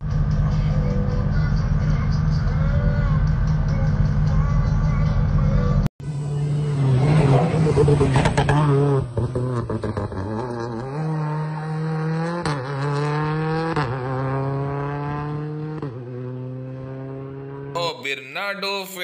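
Rally car engine idling steadily in a closed parc fermé at the Castelo Branco rally, then revving up and down in rising, falling sweeps, loud and close with a short break near the start.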